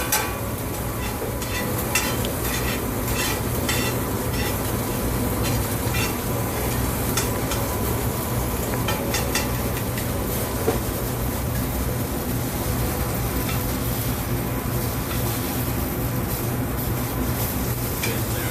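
Bacon frying in a pan and being stirred, giving a steady, dense crackling sizzle that holds at an even level throughout with no talking.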